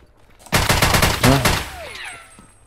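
Rapid gunfire bursts in Escape from Tarkov ring out loud and close, a dense volley lasting over a second before the shots trail off into fading echoes.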